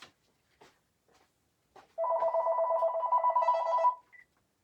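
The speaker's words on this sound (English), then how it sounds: "And my phone rings." A phone rings once with a steady electronic tone lasting about two seconds in a quiet room, preceded by a few faint clicks and handling noises.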